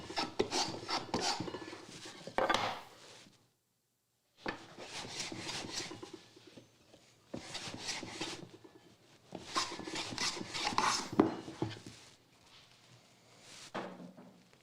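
A wooden board edge is chamfered by hand, making rough rasping strokes that come in repeated close bursts, separated by a brief silent pause and several short gaps.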